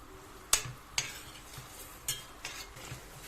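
Roughly chopped onions sautéing in a little oil in a pan, a faint background sizzle punctuated by several sharp spoon scrapes and clinks against the pan at uneven intervals, quiet and without speech.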